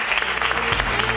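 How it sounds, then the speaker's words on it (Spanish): Dense, loud applause from an audience at a talk on leadership and business, a brief continuous burst of many hands clapping close by. "Les quería pedir un gran aplauso para"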